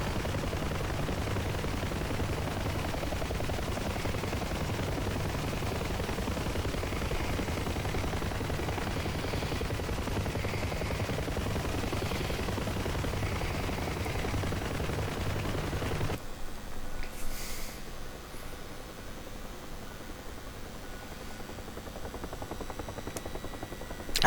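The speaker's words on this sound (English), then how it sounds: "I love the sound of these things, of these rotors" Steady low helicopter rotor thumping in a DCS World flight sim on the Normandy 1944 map runs for most of the stretch under a dense, rumbling game mix, then drops away to a quieter background near the end.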